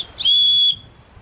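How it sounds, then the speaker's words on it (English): A single short, shrill blast from a lanyard whistle supplied with a Ganzo 741 knife, close and loud, lasting about half a second before cutting off cleanly. "Does come with a lanyard and whistle."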